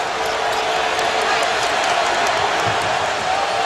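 Loud, steady roar of a packed college basketball arena crowd at Louisville versus Florida State, cheering and shouting continuously with faint bouncing and squeaks beneath.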